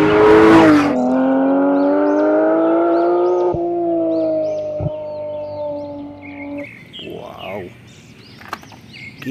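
A race car sound effect from a toy race car: a loud, steady engine-like whine that rises, holds and then drops off, followed by brief chirps and a short voice near the end.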